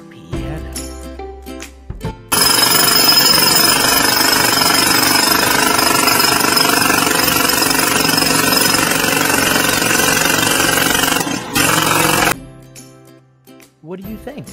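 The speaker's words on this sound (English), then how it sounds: "Was that jackhammer forte or piano?" Loud, rapid pounding of a jackhammer runs continuously for about ten seconds, starting and stopping abruptly, with quieter background sound before and after.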